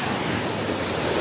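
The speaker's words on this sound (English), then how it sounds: "so we're finally here at the beach." Steady roar of surf washing onto a beach, broadband and continuous, with a low rumble underneath and no voices.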